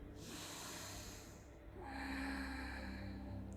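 A deep, slow breath drawn in through the nose during a yoga session, close and fairly loud, a long airy rush with a short pause in the middle and no talk.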